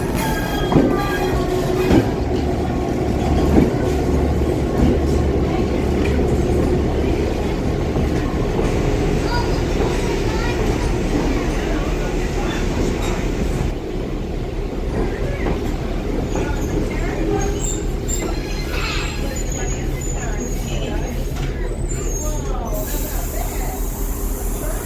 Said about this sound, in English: DBR 1282 promptly ran around to the other end of the train